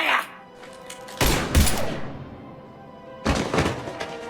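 Gunfire breaks out in the video game Mass Effect 3, two loud clusters of blasts and thuds separated by a quieter gap, close and without voices.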